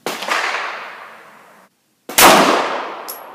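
Two sharp, loud 9mm pistol shots from a Smith & Wesson Shield firing Blazer 115 grain full metal jacket ammunition, each a crisp crack with a ringing decaying tail, about two seconds apart and heard alone.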